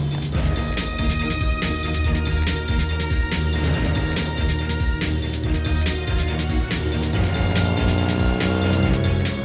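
A classic Aston Martin powered by a Bentley-derived straight-six of about 150 horsepower drives along, its engine a steady, loud drone with rising harmonic sweeps as it gains speed, with no talk over it.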